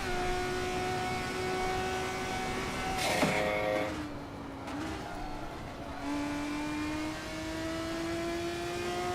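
A race car engine in the driving sim Assetto Corsa holds a steady high whine, briefly dips with a short crackle, then climbs again as it accelerates, loud and continuous.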